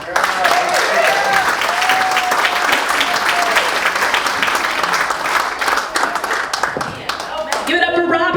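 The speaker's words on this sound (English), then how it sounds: "please give me a round of applause for Miss Melissa Diaz." An audience claps and applauds loudly and steadily, with scattered cheers and a voice rising over the crowd near the end.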